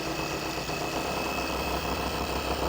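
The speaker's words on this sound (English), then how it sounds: "Turn the speed all the way down of the polisher" A car polisher runs steadily at its lowest speed setting during wet sanding of a paint job, giving a continuous even motor hum with no pauses and no talking.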